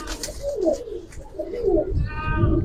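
Pankhi pigeons coo in a soft, rolling series of low bubbling calls, close by and fairly steady, with a brief higher trill near the end.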